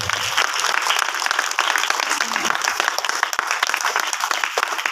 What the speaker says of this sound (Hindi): ताली बजाकर हम प्रभु का धन्यवाद करें।